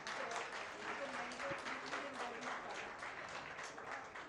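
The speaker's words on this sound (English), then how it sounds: "a round of applause for our cartoon characters" An audience at a nutrition festival event applauds costumed cartoon characters, a steady, fairly faint and distant patter of many hands with a murmur of voices underneath.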